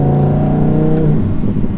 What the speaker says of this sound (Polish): Jak pięknie ten silnik oddycha.